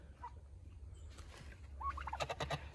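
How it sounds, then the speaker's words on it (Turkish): A turkey gobbles in a quick warbling burst after a brief call on a village farm, moderately distant over a low steady background hum. "Hindimiz büyümüş maşallah"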